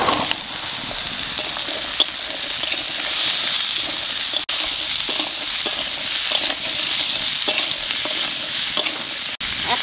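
Potatoes frying with onions and five-spice seeds, stirred in a pan: a loud, steady sizzle with continuous stirring, broken by a couple of sharp utensil clicks.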